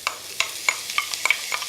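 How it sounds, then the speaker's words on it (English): Chopped onion sizzling in a pan of hot rapeseed oil and melted butter, close and steady, with a series of sharp stirring scrapes and crackles punctuating the fry. "So in goes the onion first of all. You can hear that sizzle"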